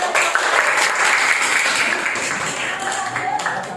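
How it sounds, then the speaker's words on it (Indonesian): Students in a classroom clap together in a burst of applause, steady, fairly close, and tapering slightly toward the end. "Kita tepuk tangan."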